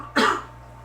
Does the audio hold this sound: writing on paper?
no